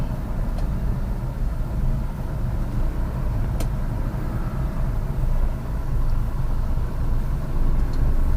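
A manual car engine runs at low revs close by, a steady rumble with a slight rise as the vehicle begins to move off uphill.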